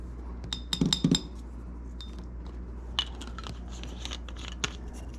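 Herbsaint being stirred in a glass for a Bora Bora cocktail: a burst of quick bright clinks from a spoon against glass early on, then a few scattered light taps in a quiet room.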